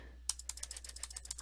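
A rapid run of a dozen or so computer keyboard key presses, crisp and close, tapping at an uneven quick rhythm while someone tries to get past a prompt during a Windows 3.0 setup in VirtualBox; no talking.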